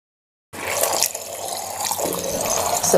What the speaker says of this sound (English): I'm now going to rinse it.